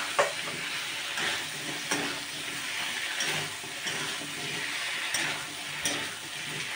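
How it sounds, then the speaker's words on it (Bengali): Chopped bottle gourd sizzles and crackles steadily in hot spiced oil, with a few louder bursts and scraping stirs from the pan throughout, close and continuous without any talk. "এখন আমি এখানে লাউটাকে ঢেলে দেব। যে লাউটা আমি কেটে রেখেছিলাম সেই লাউটাকে দিয়ে দিচ্ছি।"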